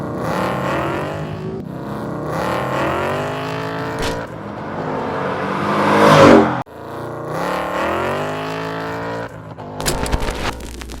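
A car drives past outside and revs, its engine climbing through several loud, rising gear pulls, then a short roaring burst before a rougher, rattling tail; no one speaks.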